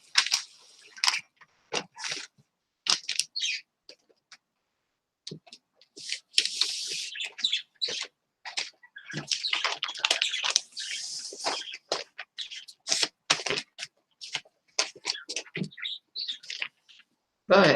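Pet birds chirp indoors in quick scattered bursts of high tweets and calls, with short pauses between flurries, close and fairly clear.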